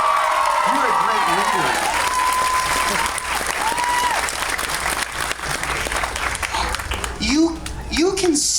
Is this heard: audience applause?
yes